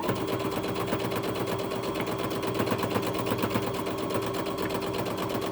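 Sewing machine stitching back and forth through minky fabric at a half-inch seam, a steady close mechanical whir with a rapid even needle rhythm throughout, no talking.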